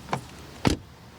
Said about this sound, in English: door closing sound